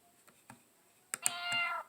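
A few soft clicks, then a single clear cat meow rising and sustained for about half a second, fairly quiet and close.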